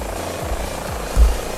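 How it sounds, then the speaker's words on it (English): An Airbus H145 helicopter in Microsoft Flight Simulator 2020 idles with its engine running, a steady low rotor thump and hum with a brief louder swell near the end, no talk. "I have already started this beautiful helicopter up"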